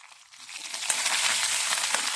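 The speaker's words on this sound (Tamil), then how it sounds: "கொஞ்சம் பொன்னிறமாக வதக்கிக்கோங்க" Urad dal sizzles in a pan of hot tempering oil for a chana sundal, rising from quiet into a loud, close, continuous crackling hiss with scattered sharp pops, and no voices.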